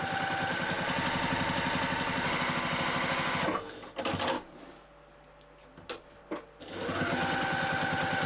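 Sewing machine top stitching a bag at a longer stitch length, a steady rapid mechanical whir that runs loud, stops partway with a few clicks and handling sounds, then starts up again.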